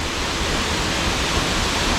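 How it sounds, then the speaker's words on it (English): A waterfall on Makamakaole Stream roars as a dense, steady rush of falling water, close and constant with no voices. "Beautiful waterfall there."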